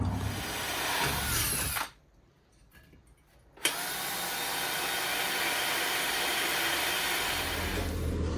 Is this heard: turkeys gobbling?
no